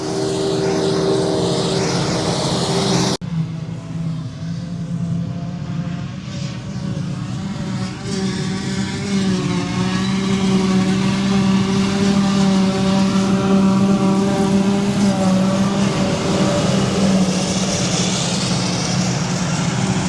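A Quick 195 farm vehicle towing a West trailer during first-cut silage harvest rumbles past with a loud, sustained engine drone that rises and holds, heard alone.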